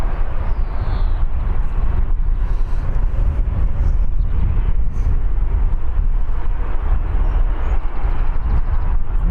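Dense, steady roar of a Ryanair jet on the runway at Birmingham airport, continuous and fairly loud with distant outdoor rumble and no clear voices.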